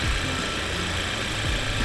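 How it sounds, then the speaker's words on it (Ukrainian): A 2013 KIA Sorento 2.4-litre petrol engine with automatic transmission idles smoothly and steadily at close range, a low even hum with no voices over it. "Вібрації ніяк немає, ось робота двигуна."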